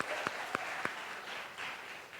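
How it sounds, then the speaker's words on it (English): Audience applause at a university math fair, faint scattered clapping from a small crowd, a few distinct sharp claps early on before it settles into a soft, even patter. "let's give our participants a round of applause"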